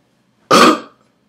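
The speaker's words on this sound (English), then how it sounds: "That's a burp bending for all my Avatar fans out there." A single loud, throaty burp lasting about half a second, standing alone against silence.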